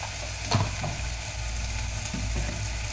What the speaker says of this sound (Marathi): कांदा टोमॅटो पण आपला भाजत आलेला आहे